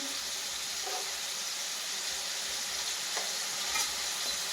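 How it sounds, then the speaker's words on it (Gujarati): Spices (turmeric, coriander-cumin powder, chili, salt) being stirred in a frying pan for sev tomato curry, with a steady soft sizzle and a few faint scraping stirs, fairly quiet and close, no talking. "પછી હલાવી દેવાનું"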